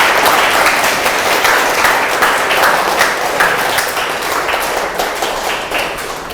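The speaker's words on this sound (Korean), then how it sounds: "오늘 고생해 주신 우리 교수님께 다시 한번 큰 박수 부탁드립니다." A lecture-hall audience gives a professor a sustained burst of applause at the close of a public physics science talk. The clapping is dense, loud and steady throughout, with no one speaking.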